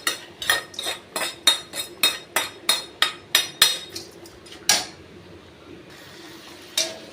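A spoon clanks rhythmically against a pan while ingredients with dried and green chillies are sautéed in oil, about a dozen sharp metallic hits in quick succession that then slow to a few scattered knocks with quiet gaps.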